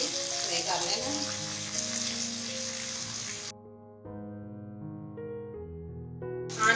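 Tomatoes and masala spices frying together in a pan for dhaba-style masala bhindi, a steady close sizzle for about three and a half seconds before music takes over.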